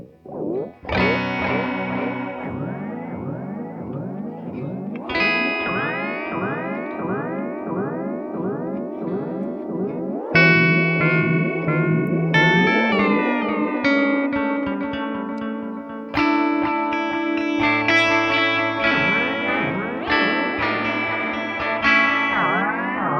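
Heavily processed guitar notes ring out through a Source Audio Encounter effects pedal with feedback set near maximum, repeating echo trails and distortion piling up in waves, loud and alone.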